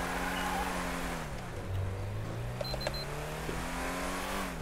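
Engine of a Ford Explorer driving in GTA V, a steady low drone with a pitch that dips and rises as it changes speed, heard alone with faint high whine and a few clicks.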